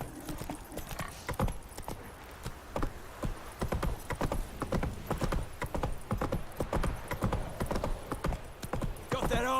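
Roach the horse gallops in The Witcher 3, a rapid rhythmic clip-clop of hooves that runs continuously and close, with a brief whinny-like cue and faint voice.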